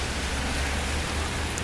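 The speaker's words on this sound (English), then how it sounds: "it's raining" Rain falling outdoors on a street in Leavenworth, a dense, even hiss of drops on surfaces, loud and unbroken for the whole short stretch with no voices.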